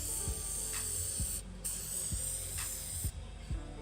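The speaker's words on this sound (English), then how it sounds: "these little nozzles, they're not spraying like they should be" Spray gun nozzles apply coating to a firearm during hydrodipping, giving a steady close hiss with brief dropouts and soft mechanical clicks between bursts.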